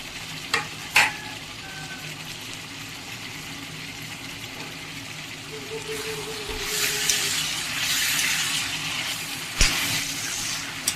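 Mutton frying with tomatoes and chillies gives a low background sizzle, joined by spatula knocks and a louder hissing burst in the second half; no talk.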